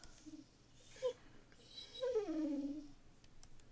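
A dog whimpers indoors with a few thin, high whines and one longer descending whine, soft and close, with no talk over it.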